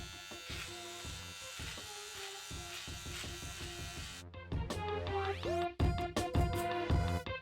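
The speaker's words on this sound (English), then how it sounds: "I'm also gonna trim the mustache as well." Andis Slimline Pro trimmer buzzing steadily while trimming a mustache, a close continuous electric hum with pitch wobbling as the blades meet hair, growing choppier with brief stops toward the end.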